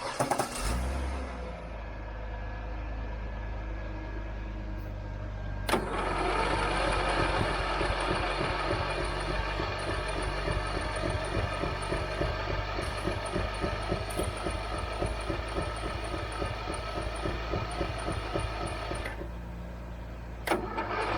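An old lawn mower engine cranks briefly, then catches and runs with a loud, steady rapid chugging idle for about thirteen seconds before cutting back, heard alone and close.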